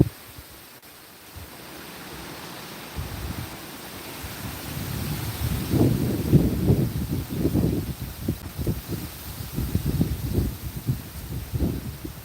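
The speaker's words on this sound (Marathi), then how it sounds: "जोरदार वारा सुटलेला आहे" Strong wind blows in rising, buffeting gusts that roar against the microphone, growing louder and choppier toward the end.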